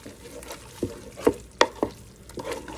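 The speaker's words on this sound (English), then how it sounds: "Let's give it a stir." Mac and cheese being stirred in a Ninja Speedi, heard as a handful of close, soft scraping and clacking strokes spaced irregularly over a quiet background.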